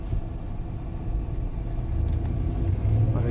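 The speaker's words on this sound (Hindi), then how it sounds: "और ये देख सकते हो गाड़ी भी आ रही है" A car approaching on a street in Qatar, a low engine rumble steadily growing louder and closer over road noise.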